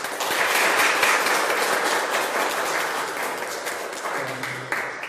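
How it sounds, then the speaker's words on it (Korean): Loud, dense applause from a concert audience welcoming a classical singer, a continuous roar of many hands that eases slightly, with a low sustained tone entering near the end. "박수를 부탁드리겠습니다."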